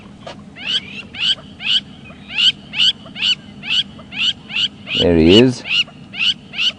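A small bird calls loudly and repeatedly near its nest at a game reserve, sharp evenly spaced chirps about twice a second, with a voice speaking over one burst.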